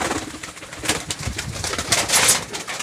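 Lotan fancy pigeons coo at a fancy pigeon farm. Soft, breathy coos and rustling bursts repeat close by and rise in loudness toward the end, with no talking.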